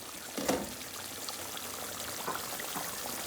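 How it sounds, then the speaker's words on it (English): Beef shatkora curry, a Sylheti dish of fatty beef, simmers in a pot over a medium-low gas flame. It gives off faint, soft bubbling and liquid sputtering, with a couple of slightly louder pops and no voices. "The beef is cooking away."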